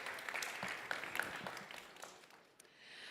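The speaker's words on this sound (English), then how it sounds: "Maybe a bit of applause, that would be really good." Audience applause at a European research and innovation panel event, a brief burst of steady clapping from a room of people that fades toward the end, with a faint voice underneath.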